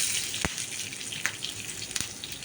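Asafoetida and curry leaves sizzle in hot oil while tempering for rasam, a steady close crackling fry with a few sharper pops.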